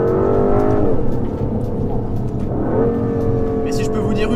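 An Aston Martin DBS Superleggera in Sport Plus mode accelerating hard on an open road, a loud sustained engine roar rising in pitch through gear changes, heard from inside the cabin with someone talking over it.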